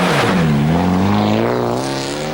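A Mitsubishi Galant rally car's engine revs hard, its pitch dipping and rising through gear changes as it sweeps by close and loud, a strong continuous growl with no voices over it.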